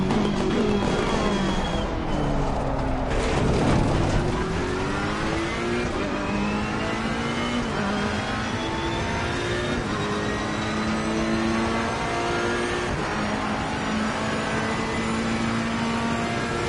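Race car engine in Assetto Corsa Competizione on the Spa circuit at night, on the first lap of a race, revving loud and continuous with repeated rising pitch sweeps through the gears and brief downshift dips.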